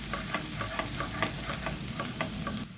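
Garlic frying in butter and olive oil in a pan, a close, steady sizzle broken by regular scraping stir strokes, with no talk.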